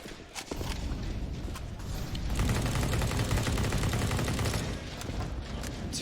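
Rapid rifle fire in a Counter-Strike match at IEM Chicago 2019, with dense overlapping bursts and taps that swell into near-continuous shooting, loud and busy from start to finish.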